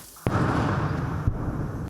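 Mortar fire from a nearby Ukrainian position at the front line in a forest in Luhansk region: a sudden loud blast followed by a long, heavy rumbling roar that holds for over a second before cutting off.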